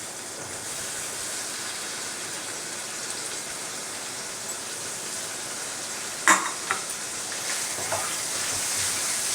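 Chopped tomatoes frying in a pan with ginger garlic paste and curry leaves, a soft steady sizzle with a couple of sharp stirring knocks partway through.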